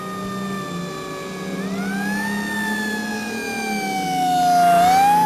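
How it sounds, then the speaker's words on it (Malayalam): An ambulance siren wails loudly and steadily throughout, its pitch sliding up and down in long sweeps over a low engine rumble, with no talking. "സാർ ആംബുലൻസ് എത്തി"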